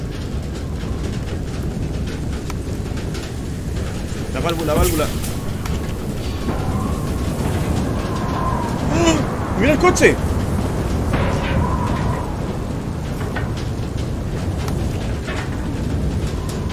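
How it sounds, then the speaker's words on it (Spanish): A thunderstorm with rain rolls over the world of FAR: Lone Sail, a steady heavy rumble and wash of rain with a few louder thunder swells and cracks, while someone talks excitedly over it throughout. "Este es el comienzo de una tormenta, ¿eh?"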